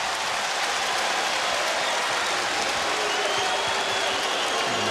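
Tennis crowd at the Laver Cup during a Schwartzman versus Rublev match, giving broad steady applause and crowd noise that fills the arena, with faint shouts and whistles rising within it.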